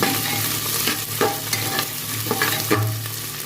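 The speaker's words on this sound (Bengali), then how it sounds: "পেঁয়াজটা ভেজে নেবো ভালো করে" Chopped onions frying in hot oil in a pressure cooker, a steady sizzle broken by scraping stirs and clinks of a spoon against the metal pot, close up with no voices.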